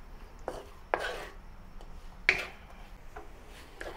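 A spatula stirs bitter gourd with salted egg yolk in a hot pan. Sparse, sharp clacks and scrapes come a second or so apart, close up, over a soft background hiss.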